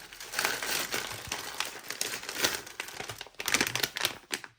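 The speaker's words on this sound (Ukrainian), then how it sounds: "Останнє відкриємо її в цьому пакунку" Plastic packaging crinkles and crackles steadily as a package is opened up close, a continuous run of rustling and crumpling with a few sharper tearing bursts.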